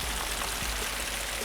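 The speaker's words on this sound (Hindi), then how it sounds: "मूसलाधार बारिश ऐसी बरसी कि जलथल एक हो गया" Heavy torrential rain pours down over Lahore, a loud, continuous wash of broadband noise without any breaks or voices.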